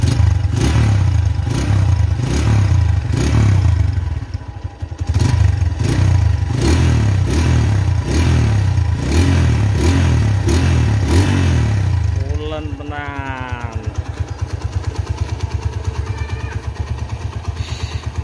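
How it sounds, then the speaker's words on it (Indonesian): A red 2008 first-generation Honda Tiger motorcycle engine and exhaust give rhythmic, loud close-up revs that rise and fall repeatedly, then settle into a lumpy steady idle while someone talks over it. "tapi jeringnya itu masih khas banget untuk Tigrevo-nya"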